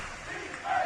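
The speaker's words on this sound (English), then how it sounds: "People are on their feet in the crowd screaming defense." A basketball crowd at Chase, on its feet during a tied game, roars and chants for defense, a short loud burst of massed voices swelling near the end.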